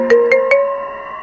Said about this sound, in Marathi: तेवढ्यात अचानक माझा फोन वाजला.